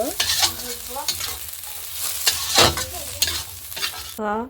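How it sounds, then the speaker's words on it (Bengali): Spiced potatoes frying in a pan with chopped coriander leaves, stirred with a utensil: a steady sizzle broken by several scraping stir strokes, close and fairly loud, with no talking. "এখন এটা নাড়ি চালিয়ে নামিয়ে নেব"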